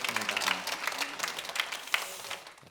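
A church congregation at a Sunday morning service claps for one another, a moderate, somewhat uneven spell of applause that tapers off toward the end.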